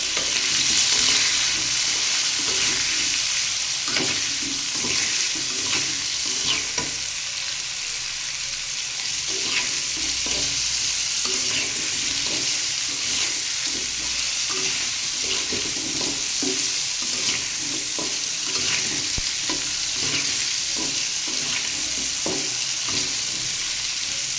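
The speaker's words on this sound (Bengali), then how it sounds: "এবারে এটাকে নেড়ে চেড়ে মিশিয়ে নেব" Bottle gourd with turmeric being stirred in a pan for lentil curry, a steady sizzle with repeated scraping strokes throughout, close and fairly loud with no voices.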